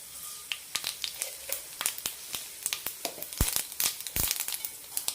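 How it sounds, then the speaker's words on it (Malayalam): Mustard seeds tossed into hot oil for a potato stir fry pop and crackle in a quick, irregular series of sharp snaps, fairly close, with a couple of louder bursts near the end and no talking. "ഇനി ഇതിലേക്ക് കടുക് ഇട്ട് കൊടുക്കാം"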